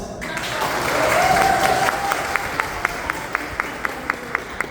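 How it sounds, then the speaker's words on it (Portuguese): Applause from a church congregation swells and then settles into steady unison clapping on a regular beat, loud and close. Briefly at the start, a voice rises over the clapping. "Mais palmas"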